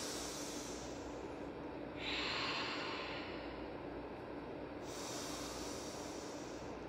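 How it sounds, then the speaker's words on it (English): Deep, audible breaths during a yoga class, long airy inhales and exhales in a slow, steady rhythm, loud and close with a soft background hiss, no speech. "deep breath."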